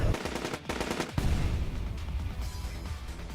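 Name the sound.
gunshots in video game AI: The Somnium Files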